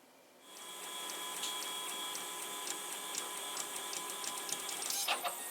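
A Protomaker 3D printer runs a test print, its stepper motors whirring steadily with faint regular ticks and a brief louder rattle near the end.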